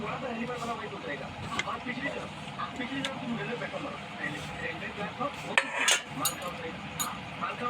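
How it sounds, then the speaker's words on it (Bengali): A spoon stirs mango paste batter with fennel powder and salt in a bowl, making light, irregular clinks and scrapes that sit under a steady speaking voice. "আমি এটাকে ভালো করে মিক্স করে নিচ্ছি"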